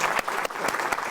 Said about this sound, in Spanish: Un aplauso, que se escuche.